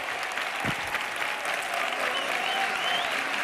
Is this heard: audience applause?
yes